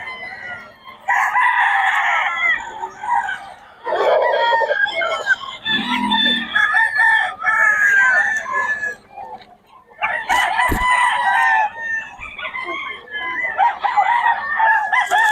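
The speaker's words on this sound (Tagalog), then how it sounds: "Murang-mura mga manok ni Boss Joey, mga idol." Several roosters crow repeatedly, overlapping one another, with chickens clucking nearby throughout; loud and close.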